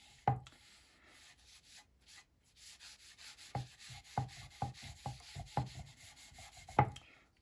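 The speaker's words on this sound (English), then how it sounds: "I'm going to add a little bit of this stain to both of these boards, and I'm using something called dark walnut" Dark walnut wood stain is rubbed onto wooden boards, with a few sharp knocks and a run of short rubbing and wiping strokes in quick succession, close and fairly quiet.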